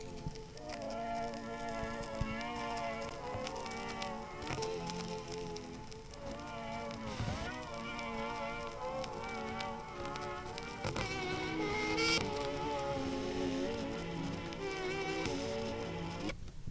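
A record plays through a small sewing needle fixed to a handmade cone, giving a continuous thin, buzzy musical tone with scratchy surface noise running throughout at steady loudness.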